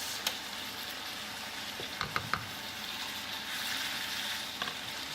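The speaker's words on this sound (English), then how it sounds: "Sizzling fajitas." A steady, hissing sizzle of chicken fajitas frying in a hot pan, with a few sharp utensil clinks and scrapes partway through.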